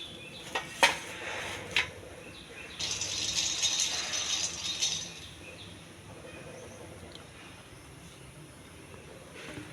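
Raw peanuts being dry-roasted for a tomato chutney rattle and scrape as they are stirred in a pan, with a few sharp clinks early and then a soft, continuous jostling that fades.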